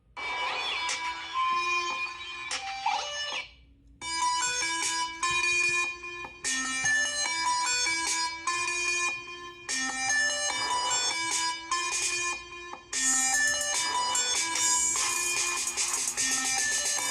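Royalty-free trap music with bright, bell-like synth melodies and steady beats plays through the dual speakers of a Sony Xperia XZ1 Compact phone, loud and continuous with a couple of short breaks.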